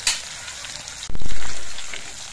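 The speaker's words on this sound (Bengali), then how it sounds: "মাছগুলো একটু কড়া করেই কিন্তু ভেজে নিতে হবে" Amudi fish frying in hot oil, flipped to crisp both sides: a brief faint hiss gives way to a sudden loud sizzle that slowly fades, with no talk.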